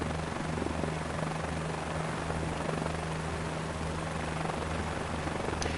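Helicopter in Microsoft Flight Simulator 2024 giving a continuous steady rotor and engine drone, even and loud throughout with no talk.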